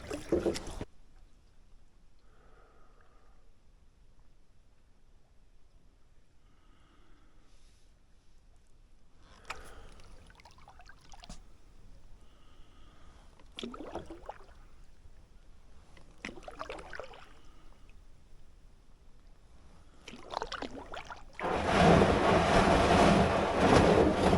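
A canoe paddled on a lake: quiet stretches broken by soft, spaced paddle strokes and water swishes, with a louder, rushing splash near the end.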